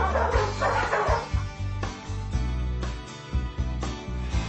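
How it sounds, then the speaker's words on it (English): A dog barks repeatedly in short bursts, close by, with a few whimpering yips between the barks. "barking"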